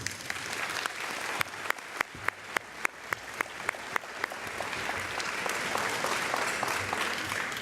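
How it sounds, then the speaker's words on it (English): A homecoming luncheon audience breaks into applause: scattered individual claps at first, swelling into a dense, sustained round of clapping. "Will you please join me in a round of applause for this year's recipient, Mr. Michael Magnus."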